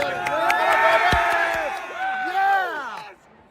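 An indoor crowd at a boys' varsity sports game in a gym cheers and whoops loudly over several seconds, with whistling and shouting voices, then fades quickly.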